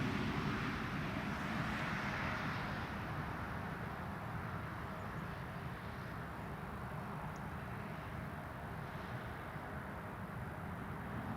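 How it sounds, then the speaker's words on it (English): A Diamond DA62 light twin-engine aircraft comes in to land at an airport, a steady broad engine drone held at fairly constant loudness for the whole stretch, heard from a distance with no voices. "it's that DA62, the one that departed before. I didn't notice that was coming in to land"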